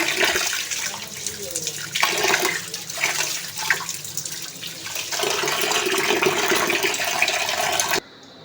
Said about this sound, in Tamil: மஞ்சத்தூள் போட்டு ரெண்டு மூணு டைம் வந்து அலசி நல்லா கழுவி எடுத்துக்குவோம்